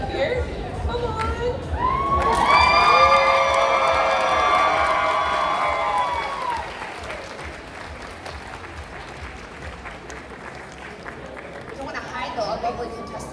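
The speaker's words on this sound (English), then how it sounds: "Give another round of applause to all of our amazing people up here." Convention crowd applauding and cheering cosplay contestants on stage at a night event, a loud sustained wash of clapping with whoops and chatter that swells early, then gradually thins and fades.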